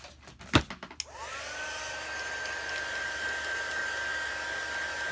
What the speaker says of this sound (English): Get my heat tool going.